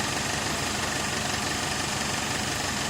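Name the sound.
car engine idling in drive with a strange extraneous noise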